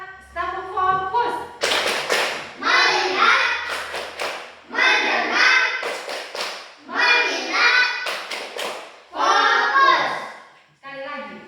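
A classroom of children clapping their hands in a counting rhythm game, bursts of crisp group claps growing from single claps to longer runs, alternating with an adult's spoken counts between them.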